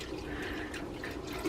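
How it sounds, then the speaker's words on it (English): Cold tap water runs steadily into a pot that holds eggs for hard boiling, a soft continuous trickle and splash at close range with no talking. "we're going to want just a little bit more water"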